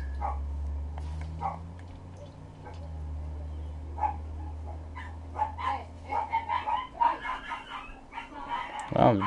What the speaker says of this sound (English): And the dogs are barking again,